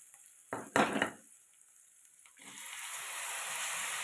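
Native tomato pieces drop into a hot pan for a dried-fish curry: a couple of sharp clattering splashes, then a quiet pause before a steady, hissing sizzle builds and holds.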